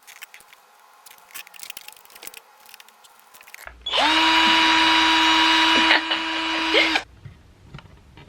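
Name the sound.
power drill drilling wall holes for a desk mount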